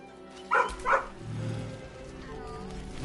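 A dog in Baldur's Gate 3 gives two short, close yips, then a low whimpering whine over a steady ambient background hum.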